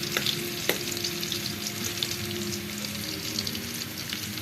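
Garlic sautéing in a pan for adobo, a continuous close sizzle broken by spatula scrapes and clinks as it is stirred, no voices.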